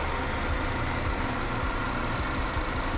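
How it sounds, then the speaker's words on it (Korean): A Chevrolet All New Malibu 2.0 turbo LTZ Premium engine idles with the hood open, giving a steady, even, close mechanical hum with no change in pitch or level throughout. "엔진 소리 일정하네요."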